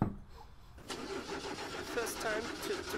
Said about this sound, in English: Start the car, you bastard!